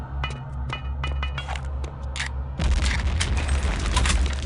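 A grenade goes off in the Return to Castle Wolfenstein video game, a deep booming blast that follows a run of sharp gunfire clicks and stays loud and rumbling as it fades.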